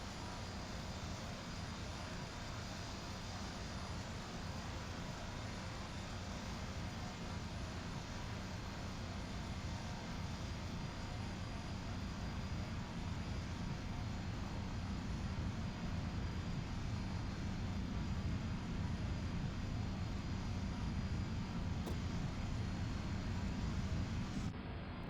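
A Cessna 208B Grand Caravan propeller plane's turboprop drones steadily through a full-length takeoff run in X-Plane 11, a constant broadband roar that swells gradually louder over about twenty-five seconds.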